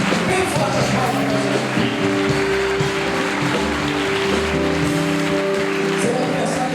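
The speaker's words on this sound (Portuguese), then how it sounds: "Bem forte as palmas." A church congregation claps hands loudly and steadily, a dense patter of applause running throughout beneath sustained music and voices.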